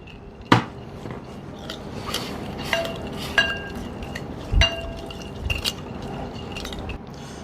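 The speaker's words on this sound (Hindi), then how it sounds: "अब हमने इसको मिक्स कर देना है अच्छे से" A spoon mixes chicken fajita sauce with dark sauce and paprika in a bowl, making scattered light clinks and taps of metal on the bowl, close-up and unhurried, with no talking.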